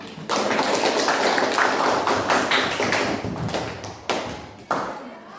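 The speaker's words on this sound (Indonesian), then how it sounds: "sekarang tepuk tangan dulu untuk semua kelompok" Classroom applause for student groups during a lesson, heard as a burst of scattered, close hand claps and taps that fades and then briefly returns near the end.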